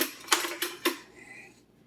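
A metal spoon knocks against a cupcake tray while making basil cashew pesto: three sharp clinks, close and distinct, followed by a faint scrape.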